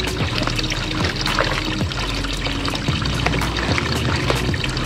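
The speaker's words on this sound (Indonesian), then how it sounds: "Kemudian kita aduk" Wet cocopeat is stirred in water, giving a continuous close sloshing and swishing with dense, trickling splashes and no pauses.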